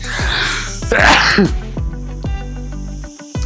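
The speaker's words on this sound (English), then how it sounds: "Sorry, I'm gonna sneeze." A loud, close sneeze bursts out after a sharp inhale, followed by a few quieter clicks and breaths.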